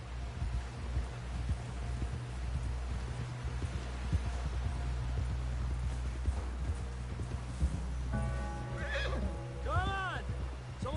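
In Red Dead Redemption 2, a horse gallops with a steady, close clip-clop of hooves, then lets out a loud, rising and falling whinny near the end, with voices speaking faintly underneath.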